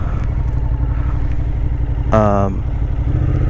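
A motorcycle engine runs steadily at a low idle rumble on a touring trip setting off for a petrol station, with a brief higher-pitched tonal sound cutting in partway through.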